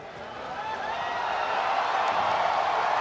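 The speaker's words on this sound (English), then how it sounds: "The crowd has come alive." A boxing arena crowd at the Pacquiao vs Matthysse fight roars in a dense, steady wash of cheering that swells gradually louder over three seconds.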